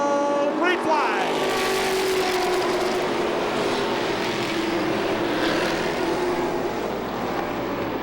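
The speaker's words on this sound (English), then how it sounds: "They're ready to go green, and here they come on the throttle." Race cars accelerating together on the green flag at Lee USA Speedway during the Oktoberfest event, a loud roaring pack of engines building and then holding steady, with an announcer talking over it.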